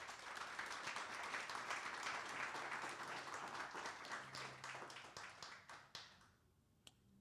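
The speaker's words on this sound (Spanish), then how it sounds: "Denle un aplauso fuerte al Señor." A church congregation claps together during a Spanish-language service, a sustained wash of applause that thins out and fades to scattered final claps and near silence at the end.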